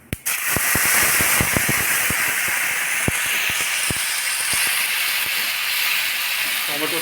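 Puréed tomato paste poured into a hot pan for a vegetable omelette curry, bursting into a loud, dense sizzle with sharp crackling pops scattered across several seconds, steady and close.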